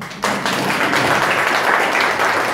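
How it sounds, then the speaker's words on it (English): Audience at a short speech session at an authors' club breaks into applause, a sudden onset of dense, steady clapping that continues evenly to the end. "Please give a big hand of applause to yourself again."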